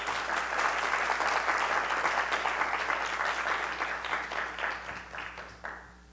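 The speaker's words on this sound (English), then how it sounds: "Everybody, can we give a quick round of applause?" An audience at a GWAMIT event gives a quick round of applause, a full steady patter of clapping that gradually thins into scattered final claps.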